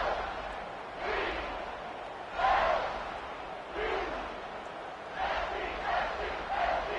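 Simulated home crowd in a football video game roars in broad, surging swells, rising and falling in several loud waves of cheering across the stretch with no clear talk.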